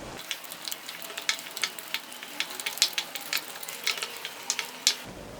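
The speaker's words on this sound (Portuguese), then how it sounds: "adiciona aos poucos os ovos. E mistura para incorporar bem." Eggs being stirred into choux pastry dough, giving soft wet slapping and squelching strokes in an irregular rhythm, close and fairly quiet, with no talk.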